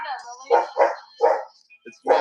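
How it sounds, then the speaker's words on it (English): An Australian Shepherd barks in four sharp, loud, close barks spaced roughly half a second apart, with a softer whine before them and a few faint yips between. "It's an Australian Shepherd."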